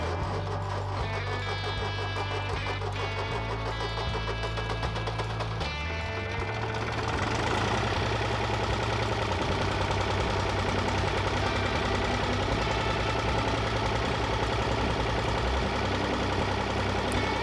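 A diesel tractor engine idles steadily while warming up in cold weather, a continuous low rumble that carries on unbroken throughout with a slight change in tone partway through, and no voices.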